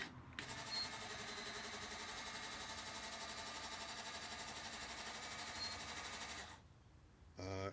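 Several small electric motors inside a Lego forklift truck whir steadily and loudly for about six seconds, a continuous buzzing drone that cuts off abruptly near the end.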